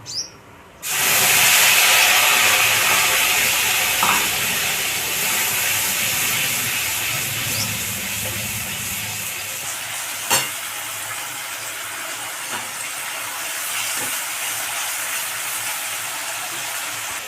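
Onion paste hits hot oil in a pan already seasoned with cumin, bay leaf and dried chilli, bursting into a loud, steady sizzling hiss that continues close up, with a few small pops and no talking.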